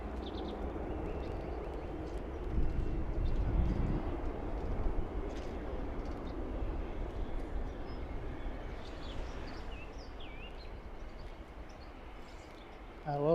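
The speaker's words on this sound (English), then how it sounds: "A little jet blast there" Jet blast from an airliner at Philadelphia airport, heard from Fort Mifflin as a broad, loud roaring rush that swells around the middle and slowly fades, with faint voices underneath.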